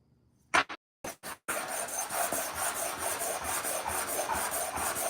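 Hand sanding a truck thermostat housing with 80 grit sandpaper: a few short separate scrapes, then a continuous gritty rubbing with rhythmic back-and-forth strokes, close and moderately loud.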